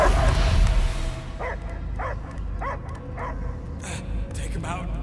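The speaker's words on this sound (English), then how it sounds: "I hear only barking" Dog in Marvel's Guardians of the Galaxy video game gives a run of short, whiny barks and whimpering yips, repeated about every half second over a low game rumble.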